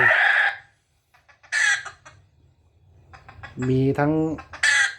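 Recorded hen clucking played through a remote-controlled speaker: loud, clipped cluck bursts alternate with a drawn-out harmonic cackle, with someone speaking briefly between calls.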